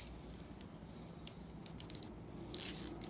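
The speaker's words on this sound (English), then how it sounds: "See, I've got ratcheting wrenches here." A ratcheting wrench from a beginner's automotive toolbox gives quiet, sparse clicks and ticks, close by, with a short louder burst of rapid ratcheting near the end and no talking.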